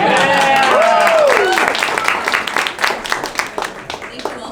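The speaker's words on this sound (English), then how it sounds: "applause" Audience applause at a candidate forum, with a dense wash of clapping that fades gradually into scattered claps. A voice speaks over the start.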